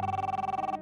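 An electronic telephone ring, a steady warbling tone pulsing rapidly for under a second before cutting off, loud and close.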